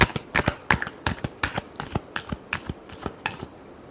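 Tarot cards shuffled by hand in quick, crisp riffling bursts, about a dozen sharp slaps in a steady rhythm, close and alone.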